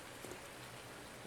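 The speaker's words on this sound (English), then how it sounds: "it is still raining" Steady rain in Farming Simulator 19 falls as a constant soft hiss with scattered patters, faint and unbroken, no voices over it.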